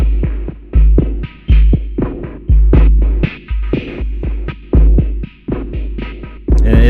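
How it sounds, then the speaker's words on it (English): Synthesized bass drum groove from a music app jam session: deep, booming kicks in a syncopated, almost polyrhythmic pattern, with layered tonal synth tones pulsing over them, loud and steady throughout. "So I've got that, and then I add the bass drum to it."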